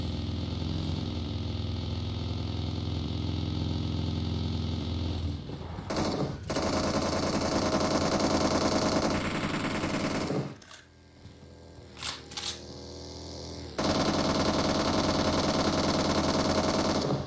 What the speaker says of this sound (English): What are you shooting at, dude?